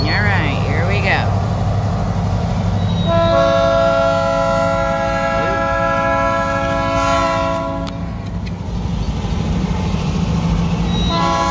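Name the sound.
toy train running and honking its horn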